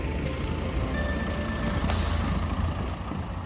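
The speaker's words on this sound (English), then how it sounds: "then we've got an Arctic unit coming out" An articulated lorry unit pulls out at a yard, its heavy engine rumbling steadily and fairly close, with faint electronic reversing beeps briefly showing through the drone.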